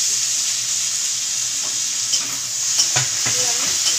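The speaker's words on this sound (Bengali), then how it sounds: "পেঁয়াজ কুচিটা ভাজা ভাজা হওয়ার পর এর মধ্যে আমি দিয়ে দিচ্ছি টমেটো কুচি।" Chopped tomato is added to fried onion in a hot kadai and sizzles steadily, with a constant hissing fry and a few soft scrapes and knocks of stirring toward the end.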